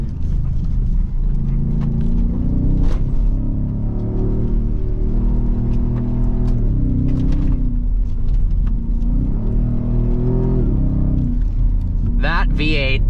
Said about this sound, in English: That V8 sounds so incredible.